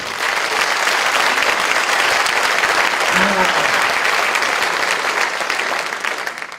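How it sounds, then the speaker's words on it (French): At a New Year's greetings gathering of the MR in Luxembourg with Santa Claus, an audience claps loudly and continuously for several seconds, with a voice briefly heard midway before the applause tapers off. "On peut l'applaudir."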